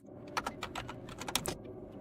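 Quick, uneven clacking of computer keyboard keys as a command is typed, close and fairly quiet, with a burst of keystrokes that trails off near the end.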